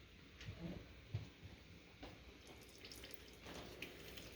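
Engine oil dripping from the oil filter of a first-generation Chevrolet Equinox, faint irregular drips and small splats at close range, with a few soft knocks and handling noises in between.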